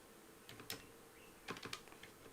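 A few quick bursts of keystrokes are tapped on a computer keyboard, two short clusters of clicks close to the microphone in an otherwise quiet room.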